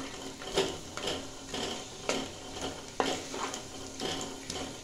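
Grated carrots fry in a pan for carrot halwa, with a steady sizzle under repeated scraping and stirring strokes of a utensil against the pan, close and moderately loud.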